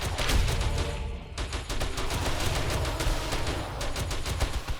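Continuous, loud burst of automatic gunfire from the GMAC high-power gun in 7 Days to Die, in a Rebirth mod horde-night defense, rapid repeated shots filling the whole stretch with only a brief dip near the start.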